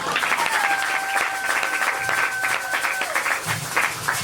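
An audience at an evangelical church gathering applauds with dense, sustained clapping from a large crowd, while a faint tone lingers underneath.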